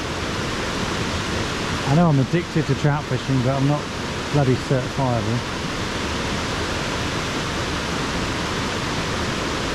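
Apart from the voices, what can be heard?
waterfall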